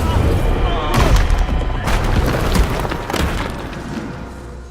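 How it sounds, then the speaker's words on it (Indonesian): A carbide cannon fired into the sky in a film scene, giving loud booming blasts, with about three heavy explosive bursts over a dense, rumbling background. "si Aji menembakkan senjata karbitnya ke langit"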